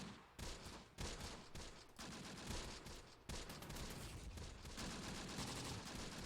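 Dense, continuous gunfire from the war video game Close Combat: The Bloody First, a steady barrage of overlapping shots and bursts at fairly low volume with brief dips, with no voices.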